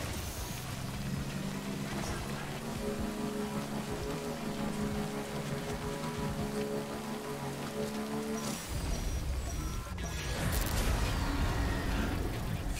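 Heavy rain in the video game Death Stranding roars as a loud, continuous downpour, with low thunder-like rumbles and a shift in texture late on.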